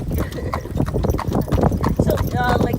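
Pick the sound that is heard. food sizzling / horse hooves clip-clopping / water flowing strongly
horse hooves clip-clopping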